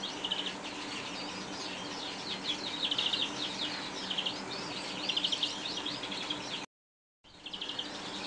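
Continuous twittering and wheezy chirps from a greenfinch cock in a breeding cage, fairly close, with the song running steadily over background hiss and cutting out briefly near the end.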